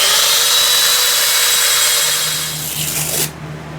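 A wood lathe spins with a steady whirring hum while sandpaper rubs against a turning eucalyptus bowl, then the sanding stops abruptly near the end.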